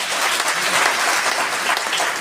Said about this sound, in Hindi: आप लोग अपने लिए जबरदस्त ताली बजाइए।